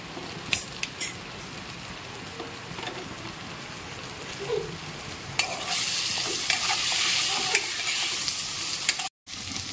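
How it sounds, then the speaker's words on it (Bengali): Thin-cut potatoes fry in a home pan alongside tomato and hilsa fish head, a steady sizzle with occasional sharp stirring clicks, growing louder and hissier in the second half before a brief dropout. "এবার এই আলুগুলোকে একটু ভেজে নেবো এর সাথে"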